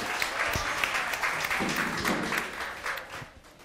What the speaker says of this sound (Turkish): Alkışlıyoruz sizi Suna Hanım.